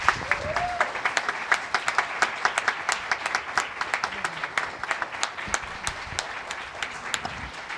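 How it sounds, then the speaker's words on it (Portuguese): Lively audience applause at an 'Entre Mulheres' talk on entrepreneurship and motherhood, a steady patter of many hands with sharper individual claps standing out, sustained and fairly close, with a brief voice near the start. "Aqui, agora, nós vamos, com muita alma, aplaudir a presença da Mafê e da Mônica"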